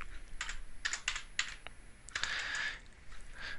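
Typing on a computer keyboard, a close run of quick key clicks in short bursts with brief pauses between them, heard alone in a quiet room.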